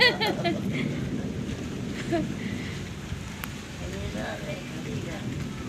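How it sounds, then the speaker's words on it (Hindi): Steady rain patters and hisses on surfaces, with scattered louder drips and muffled voices under it. "आज अच्छी तरह से हो रही है बारिश"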